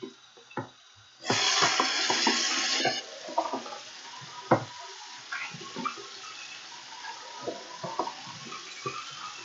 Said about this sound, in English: I'm going to rinse off my implements. Rinse out the container.